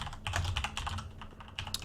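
Heavy, rapid typing on a computer keyboard, with keys clattering close and loud in a dense, uneven stream of sharp clicks and thumps.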